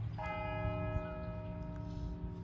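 A church bell in Gettysburg rings out once and its tone lingers, fading slowly against a low background rumble.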